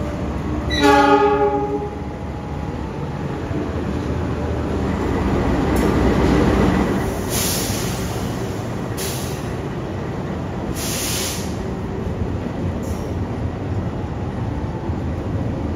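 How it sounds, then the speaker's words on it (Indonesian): Mutiara Selatan train pulling into track 7 at Kiaracondong station, a short horn blast at the start, then a steady rumble of rolling cars with a few faint chimes or squeals mid-way. "Akan segera masuk di jalur 7 kereta Mutiara Selatan dengan stasiun keberangkatan awal stasiun Bandung, tujuan akhir stasiun Surabaya Gubeng"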